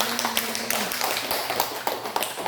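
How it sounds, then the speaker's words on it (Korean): A church congregation applauds at a Sunday service, with a burst of brisk, fairly close clapping from a small crowd lasting a couple of seconds. "하나님께 영광의 박수 올리겠습니다"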